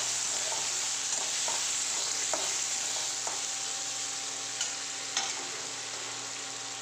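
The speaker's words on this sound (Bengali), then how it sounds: "মটরশুঁটিটা ভালো করে আলুর মধ্যে এখন ভেজে নেব" Peas and potatoes fry in a pan, a steady soft sizzle running throughout with a few faint scrapes and clicks of stirring, close and alone.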